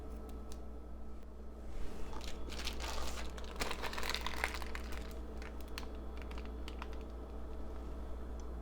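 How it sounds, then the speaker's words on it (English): A plastic baggie filled with homemade lotion being handled and its corner snipped off, faint close crinkling and small crisp clicks over a low steady hum, with no talking. "I'm just going to go ahead and pop it into a baggie. And we'll just go ahead and trim a little bit of the corner off."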